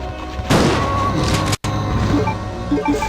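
A loud shotgun blast in Resident Evil 2 erupts suddenly, booming and then decaying, followed by a brief silence and lingering in-game ambience with faint tonal blips.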